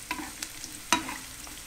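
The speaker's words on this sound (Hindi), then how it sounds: "सबसे पहले अब आप इसमें डालेंगे प्याज" Onions frying in a pan and stirred with a wooden spoon, a low sizzle broken by a few sharp scraping knocks, close.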